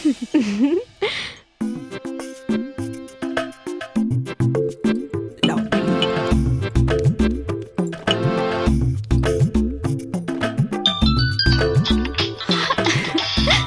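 A melodic electronic ringtone plays loudly, its bright chiming notes repeating in a steady, cheerful pattern with no talking over it.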